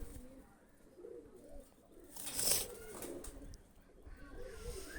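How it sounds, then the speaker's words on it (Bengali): Pakistani high-flyer pigeons coo softly in low, rolling phrases, faint and fairly near, with a brief hiss of noise midway and no talking. "এই দুইটা কবুতার যাদের পছন্দ হবে"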